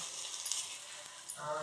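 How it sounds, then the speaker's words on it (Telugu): Ivy gourd or okra sizzling in a pan while frying until reddish, a soft steady hiss with a couple of brief stirring scrapes, close and fairly faint. "బాగా బాగా ఎర్రగా అయ్యే వరకు వేపుకోవాలి"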